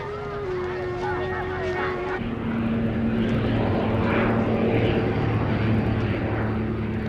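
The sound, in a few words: propeller airplane at Luang Prabang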